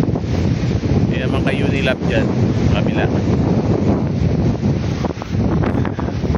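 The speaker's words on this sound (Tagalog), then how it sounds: "Wow, sarap ng hangin" Strong wind buffeting the microphone on a stormy seashore, a steady loud roar with surf beneath, while someone talks over it.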